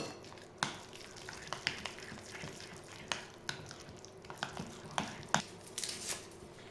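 Pumpkin puree being stirred into a soft dough, with light irregular clicks and scrapes of a utensil against a bowl, close and quiet, without voices.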